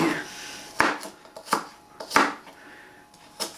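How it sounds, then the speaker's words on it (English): Small thin-skinned dessert apples being chopped on a board for green tomato chutney: a handful of sharp, separate knife strikes at an uneven pace, close and clear, with quiet gaps between them. "all I'm going to do is chop them up for the chutney"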